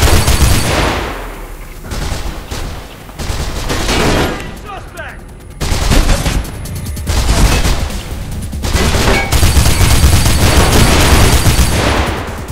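Loud, close gunfire from a powerful gun in Mirror's Edge, with repeated bursts of heavy shots and booming impacts in clusters, separated by brief lulls.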